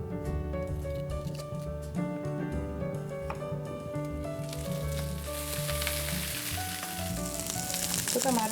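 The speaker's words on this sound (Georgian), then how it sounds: "ეხა ბადრიჯანი დავდოთ." Thick eggplant slices frying in a hot pan, a loud sizzle rising and crackling steadily beneath background music, with a voice heard briefly.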